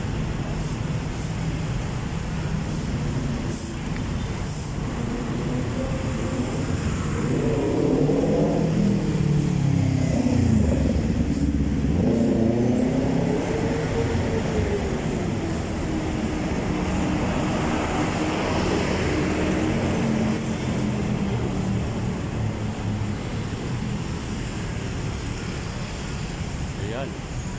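Slowing traffic on Kalayaan C5 Road, with vehicles rumbling past and engines revving, a steady loud roar of passing cars and heavier vehicles that swells in the middle.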